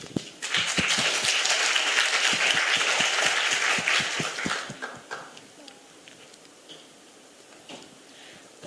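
Applause welcoming presenters at a Daegu English talk concert: about five seconds of dense, steady clapping with sharp individual claps, then fading to quiet room noise.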